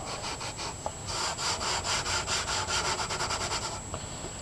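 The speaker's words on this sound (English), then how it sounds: "just a plain old plastic scrubby" A plastic scrubby pad rubs over the surface of a 55-gallon plastic barrel in quick repeated back-and-forth strokes, close and steady for several seconds, with no talking.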